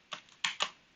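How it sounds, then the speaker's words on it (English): Three quick clicking keystrokes on a computer keyboard while typing commands into an emulated IRIX workstation, close and fairly quiet, spaced unevenly within a second with no talk. "we're gonna need to type in some commands"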